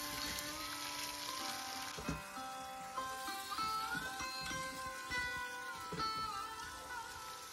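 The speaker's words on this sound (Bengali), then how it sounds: "এরপর সমস্ত সবজিগুলোকে মাংসের সাথে সামান্য ভেজে নিচ্ছি।" Potatoes, carrots, beans and onion frying with chicken, a faint crackling sizzle with scattered pops and stirring knocks, under some tonal background sound.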